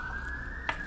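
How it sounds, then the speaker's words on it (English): A police car siren wails in the background, a single sustained tone sweeping slowly upward and holding steady over a quiet room, with a faint click near the end. "there is a very, very loud police car in the background"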